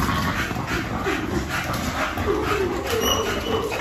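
Several dogs at a kennel yipping and whimpering in short, overlapping bursts against constant background noise, with no clear speech.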